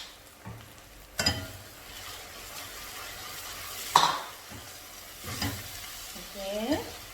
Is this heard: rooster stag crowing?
no